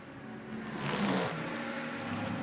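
BMW GT race car at a Barcelona GT Europe race accelerating down a hill, a distant engine whir that swells to a peak midway and then holds as a steady drone.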